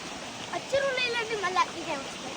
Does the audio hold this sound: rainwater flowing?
yes